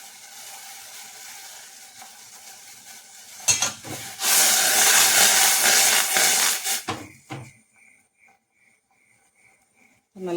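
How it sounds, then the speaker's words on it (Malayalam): Tea water boils hard in a pot on a stove, a loud hissing, bubbling burst lasting a few seconds between quieter stretches, with light clinks of utensils afterward. "അപ്പോൾ നമ്മുടെ ചായവെള്ളമൊക്കെ നന്നായിട്ട് തിളച്ചിട്ടുണ്ട്."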